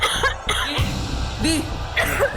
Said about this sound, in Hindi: दी देखो, आपको खांसी भी हो रही है।